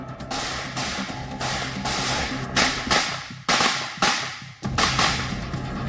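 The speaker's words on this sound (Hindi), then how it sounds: "हाथ में खतरनाक MP5 SMG गन और टारगेट पर नॉन स्टॉप फायरिंग" An MP5 submachine gun fires repeatedly at targets during Taiwanese special police force training, sharp close cracks in quick clusters over six seconds, overlapping with echo and other shooting.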